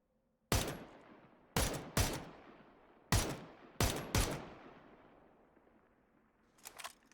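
VSS rifle fire in PUBG on the snowy Vikendi map, six loud single shots in uneven pairs, each with a sharp crack and a lingering echo tail, then faint distant shots at the end.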